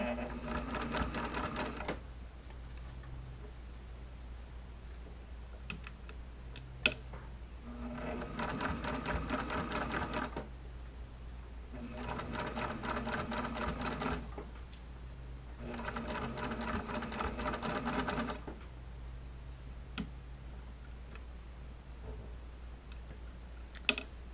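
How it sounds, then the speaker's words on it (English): A sewing machine stitches along a bra edge in four bursts of steady rapid whirring and needle clatter, each a few seconds long, separated by quiet pauses with small clicks and handling sounds. "I'm going to sew all the way back down the edge."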